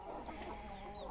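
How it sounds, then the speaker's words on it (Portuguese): A flock of free-range chickens clucks softly and continuously while pecking at fresh greens, a low, busy murmur of overlapping fowl calls outdoors. "Olha aí o torado de galinha, gente, comendo verde aí"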